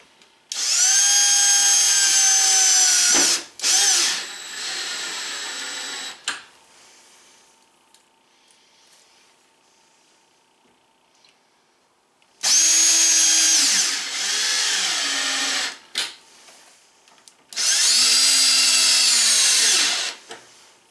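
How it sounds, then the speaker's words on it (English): A power drill drives Phillips screws into cabinet doors on a teardrop trailer build, in three loud whirring bursts of a few seconds each with quiet pauses between, no talking. "we'll take our Phillips, go ahead and install our screws."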